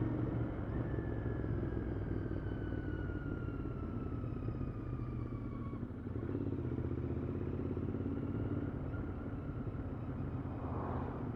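A 2020 Royal Enfield Continental GT engine drones steadily while riding, a close, continuous low rumble with rising and falling whine tones and wind noise, no pauses throughout.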